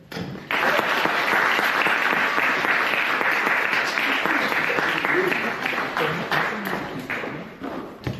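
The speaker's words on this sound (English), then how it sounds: "the rapturous round of applause that our speakers very much deserve" An audience at a Toastmasters club meeting in Liverpool breaks into a sustained round of applause, dense clapping from many hands that fills the room for several seconds before tapering slightly near the end.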